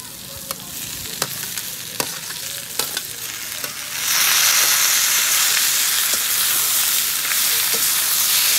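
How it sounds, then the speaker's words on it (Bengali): Potatoes fry in a pan with scraping stirs, then raw tomato goes in and a loud, broad sizzle swells and holds steady, close up. "এখন আমি এর মধ্যে কাঁচা টমেটোটা তুলে দেবো।"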